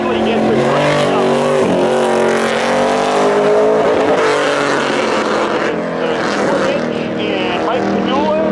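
Spectator drag race cars launching at Seekonk Speedway at a midsummer thrill show, engines roaring loud and sustained with tire squeal, while an announcer talks excitedly over them.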